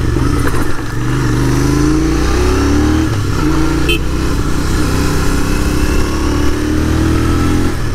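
A Royal Enfield GT 650 or Super Meteor 650 twin-cylinder engine runs loud and close, its throttle opening into a steady rising drone with a slight pitch climb, without talk over it.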